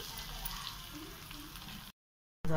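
An egg omelette fries in a pan with a steady, close sizzle that runs for almost two seconds, then cuts out briefly before a louder burst of sound returns.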